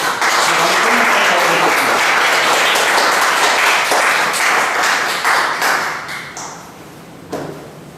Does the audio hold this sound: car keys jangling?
no